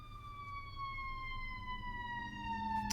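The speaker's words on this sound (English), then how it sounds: "Sorry for the sirens." A wailing siren sweeps steadily downward in pitch, sustained throughout over a low rumble of traffic.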